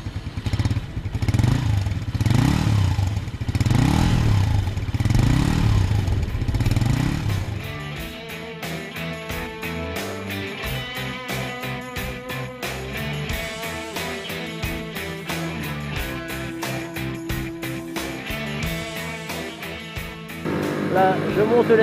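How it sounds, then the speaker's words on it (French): Motorcycle with a sausage-shaped silencer is started and revved, giving a loud, raspy, pulsing engine note close by, then dropping into a lighter rhythmic idle with clattering mechanical ticks and a rising rev near the end. "la mise en route est alors immédiate pour entendre une belle sonorité rauque et valorisante sortir du silencieux saucisson"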